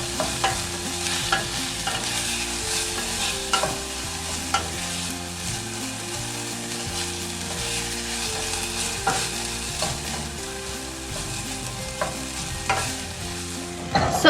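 Garlic, peppers and onions sizzle in a pan while being stirred, a steady close crackle with occasional scraping and clinks of the utensil and no talking.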